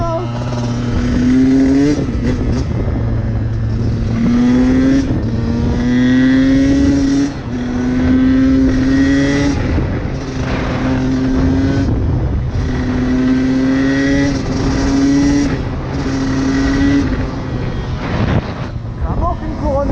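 A KTM 125 SX two-stroke dirt bike being ridden, its engine buzzing loud and close and revving up and down through repeated rising whines, with the rider talking over it.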